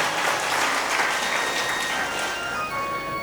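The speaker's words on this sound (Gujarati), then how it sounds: "જોરદાર તાળીઓથી વધાવશું આપણે" Loud, sustained applause from a crowd at a Bhagavat katha religious gathering, a dense wash of clapping that continues steadily through the clip without pause.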